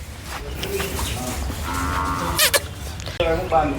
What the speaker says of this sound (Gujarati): આ ગાય છે હમણાં જ લાવ્યા છીએ આપણે